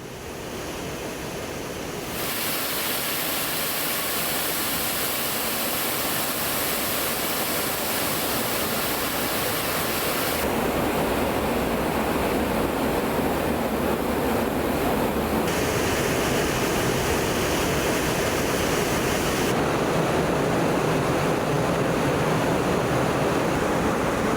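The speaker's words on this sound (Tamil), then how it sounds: "5 வாய்க்கால்கள் வழியாக திறக்கப்பட்ட நீரை விவசாயிகள் மலர் தூவி வரவேற்றனர்" Water released from Aliyar Dam into irrigation canals rushes in a loud, constant roar that continues without break for the full stretch, like heavy surf or a waterfall heard from nearby.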